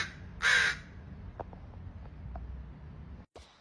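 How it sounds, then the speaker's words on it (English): Crows caw in repeated alarm calls over a dead baby crow outdoors, one loud harsh call up close followed by fainter, scattered caws further off over steady background noise. "when crows find a dead crow, they'll produce an alarm call, just like you saw in that video."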